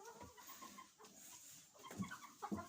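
Hens sit on their perches and straw-lined nests in a coop, giving a couple of soft, faint clucks over quiet background rustle.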